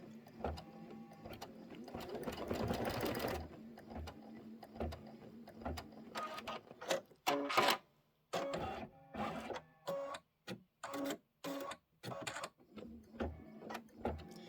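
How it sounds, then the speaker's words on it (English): A computerized embroidery machine sews placement stitches for a quilted pie block, giving rapid mechanical stitching bursts in short runs separated by brief pauses and stops, close and fairly quiet. "I'm just going to hit start again and let it do the placement stitches that go on like the left and right side"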